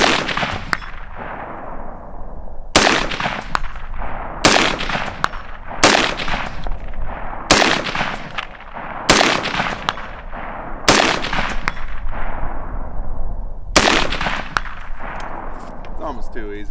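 Rapid bursts of gunfire from a Colt A2 Government Carbine clone (727) at a 200-yard range, with about eight loud, sharp volleys in an irregular rhythm and nothing else between them.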